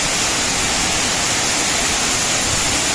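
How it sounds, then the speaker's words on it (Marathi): Water rushes at a waterfall swollen with rainfall, a loud, unbroken roar of dense hissing spray filling the whole clip with no pauses. "पाणी खूप हव्यामुळं वाहत आहे इथे."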